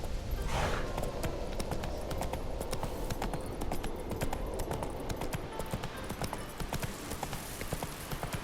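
Roach, the horse in The Witcher 3, gallops with steady, rapid hoofbeats that stay close and loud throughout, a brief whinny-like swell near the start, with no talking.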